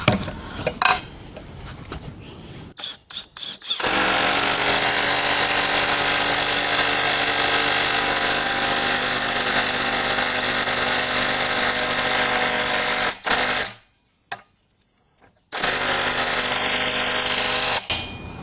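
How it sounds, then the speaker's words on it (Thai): An OSUKA OSID830 cordless impact wrench drives a large, long bolt with a loud, sustained hammering whir lasting about nine seconds, then a brief pause and a second short burst, with no talk. "เดี๋ยวผมมามาลองขันน็อตให้ดูนะครับ ก็จะเป็นน็อตไซส์ใหญ่ขนาดนี้เลยนะ แล้วก็ตัวยาวด้วย"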